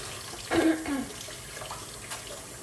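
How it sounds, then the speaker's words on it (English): Hands being washed under a running tap, with a burst of splashing water and rubbing near the start, then quieter trickling and faint sink sounds for the rest of the clip. "So make sure you always wash your hands really well."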